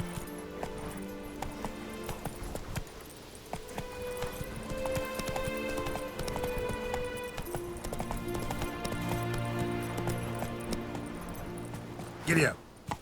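Roach, a horse in The Witcher 3 video game, gallops with steady, rhythmic hoof clip-clops over about thirteen seconds, with a snort or whinny near the end and a voice speaking at times.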